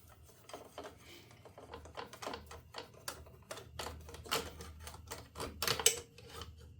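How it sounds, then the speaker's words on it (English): Metal tool work loosening a bolt on the carburetor of a Wizard riding mower: a run of sharp, irregular clicks and clanks, close and moderately loud, with no voices. "I'm going to take this bolt off here."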